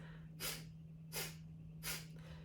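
Kapalabhati breathing, sharp forced exhales through the nose, comes as three evenly spaced breathy bursts at an unhurried pace, close to the microphone over a faint steady hum.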